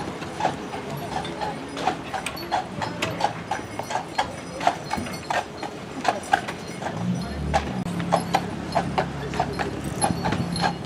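Hooves of a horse pulling a carriage clip-clop steadily through a street ride in Cape May, a regular rhythm of moderately loud hoofbeats over wheel and street rumble.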